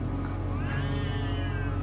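A cat meows at night near a house, giving one drawn-out, rising-and-falling meow over a steady background hum.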